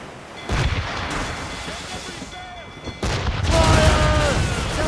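Ship cannons boom in the Assassin's Creed Rogue game, several heavy blasts over a rumbling naval battle soundscape, mixed with shouted voices and game effects.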